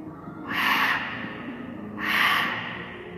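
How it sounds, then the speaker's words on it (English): Two deep, breathy inhales drawn in through the mouth during a goddess breathing exercise, each about half a second long and spaced about a second and a half apart, close and fairly loud. "Deep inhale."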